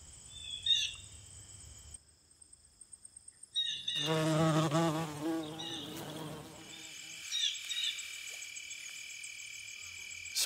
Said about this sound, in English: This bee is getting nectar the right way.